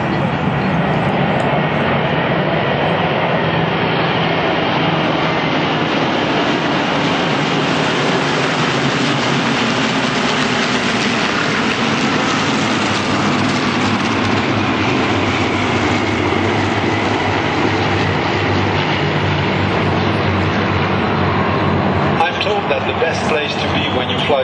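A formation of Hurricane and Spitfire fighters breaks away at an airshow at Duxford, a loud, continuous engine roar that swells and holds for a long stretch, with a commentator talking over it.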